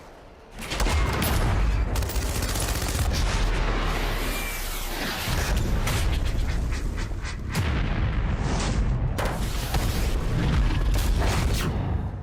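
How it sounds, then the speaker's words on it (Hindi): BM-27 Uragan and BM-30 Smerch multiple rocket launchers fire at a training ground in Belarus, making loud, sustained roaring blasts and rumbling salvos with brief lulls between launches. "बेलारूस, जहां सीमावर्ती ओसिपोचविस्की के ट्रेनिंग सेंटर में BM-27 उर्गन और BM-30 स्मर्च MLRS दागकर"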